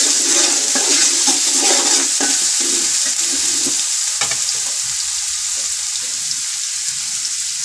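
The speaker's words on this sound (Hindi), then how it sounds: "लहसुन अदरक डाल देते।" Garlic and ginger frying in a pan for a yakhni pulao, a loud steady sizzle with faint stirring scrapes, no talking.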